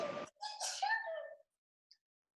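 A short sharp sneeze bursts out at the start, followed by a brief high vocal sound, then quiet.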